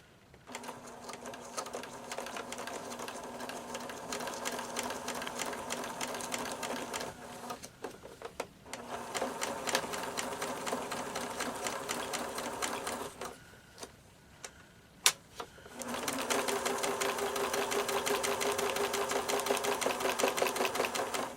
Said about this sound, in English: So it's a straight stitch, a very small one, and I'm going to stitch several times right on top of each line of stitching